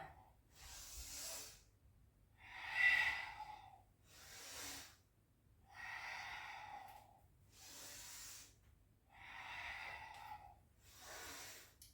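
Slow yoga breathing during a stretching session, with about six long, soft airy inhales and exhales following a steady rhythm, close and quiet with no talking.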